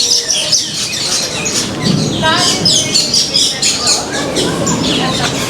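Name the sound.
birds chirping in aviary, Maharajah Jungle Trek, Disney's Animal Kingdom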